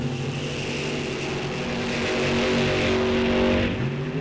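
A Corvette Roadster drag car at a drag strip roars off the line with a loud, sustained engine howl that swells and holds steady, heard from trackside with no talking.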